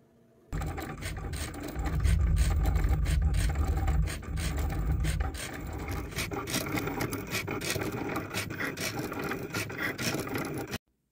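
A Cricut cutting machine slicing regular vinyl on a mat to make nail decals gives a steady, close mechanical whir with dense scratchy clicking and a low hum that drops away partway through, with no talking.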